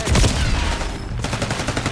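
Rapid automatic gunfire in Black Ops 6 hammers a downed player's body: a loud, dense burst, a short break, then another sustained volley, close and punchy.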